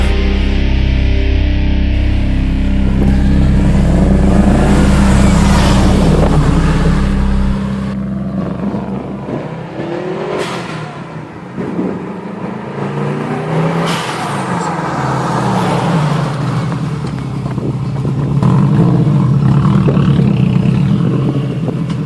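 A Subaru STi GC8 engine revs and spools up near the listener, loud bursts of rising engine roar with a turbo whine, separated by quieter idle stretches, with no talk.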